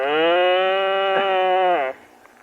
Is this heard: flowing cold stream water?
no